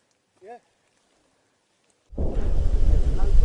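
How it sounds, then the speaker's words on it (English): Distant outgoing mortar fire from conventional Iraqi forces on a battlefield: a sudden loud low thud at about two seconds, then a sustained rumbling roar, after a brief faint voice early on. "Mortars fired by conventional Iraqi forces thud in the distance."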